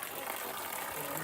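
A small spring flows out of a mud wall along a trail, with a stick set in it to direct the water, making a continuous close rushing gush while a voice talks over it.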